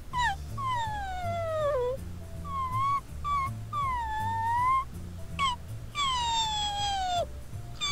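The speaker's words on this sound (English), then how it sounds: "So now I get to play as Timmy as a talking dog" Whining, whimpering dog sounds from the Fairly OddParents: Breakin' Da Rules PS2 game, with rising and falling yelps repeating over steady game music, close and fairly loud.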